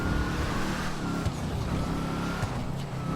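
A Bravado Gauntlet Hellfire muscle car in GTA 5 drives with a loud, steady engine roar and a low rumble that holds throughout, rising slightly in a few places, close and continuous with no talking.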